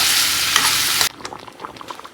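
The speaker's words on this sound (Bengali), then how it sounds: "এখানে আলু আর মটরটা ভাজা করে নিচ্ছি" A loud, hissing sizzle of potatoes and peas frying for about a second, then it drops away to quieter scrapes and clicks of stirring.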